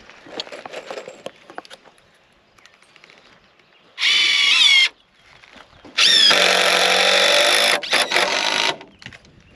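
A power drill whirs in two bursts, a short one and then a longer one, driving screws into barndominium wall framing, with faint tapping and handling noise between them.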